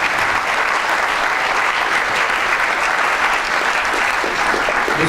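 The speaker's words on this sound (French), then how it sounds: "Des applaudissements, s'il vous plaît, pour ce magnifique plateau." Sustained, loud applause fills a hall at an award ceremony for France's best apprentices (MAF) in Aveyron, dense steady clapping from a large audience without a break.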